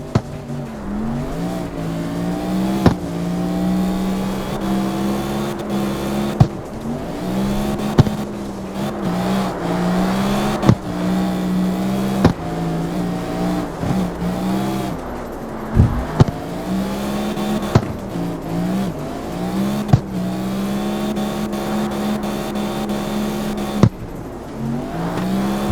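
A drift car in the racing game CarX Street: a steady, loud engine note that rises and falls through repeated revs and gear changes, with sharp shift pops and tire noise, and no talking.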